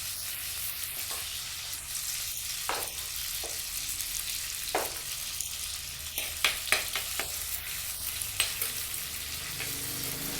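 Green chillies frying in hot oil in a pan while being stirred for a crab curry, with a steady close sizzle and scattered scraping clicks of the spoon against the pan, which grow busier toward the end.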